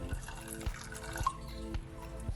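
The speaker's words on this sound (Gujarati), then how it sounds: "ડૂબે ને તેટલું પાણી લેવાનું." Water trickles and drips as it is poured over fresh green pigeon peas in a pressure cooker ready for boiling, a short, close, splashing pour with no talk.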